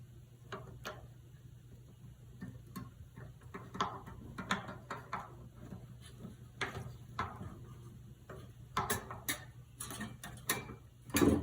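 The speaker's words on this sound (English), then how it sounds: "Right about now is where I'll use my string winder, okay?" A string winder cranks an acoustic guitar tuning peg clockwise, producing soft, irregular ratcheting clicks and ticks that are close but fairly quiet over a low background hum.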